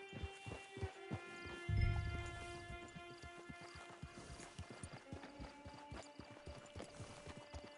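Horse hooves clip-clopping in the video game Red Dead Redemption 2 as a rider approaches a camp: soft, steady hoofbeats under a low ambient hum and faint musical tones, with one brief louder thump partway through.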